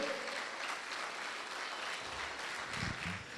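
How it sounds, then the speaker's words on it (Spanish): A church congregation claps for the Lord, a soft, continuous wash of applause heard at some distance, fairly even throughout, with a faint low rumble near the end. "Si lo crees para tu vida, dale un aplauso al Señor."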